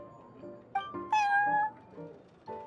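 A cat in Genshin Impact's Cat's Tail tavern gives several distinct meows: a short one, then a longer, louder drawn-out call, and a final brief mew, close and clear over a quiet background.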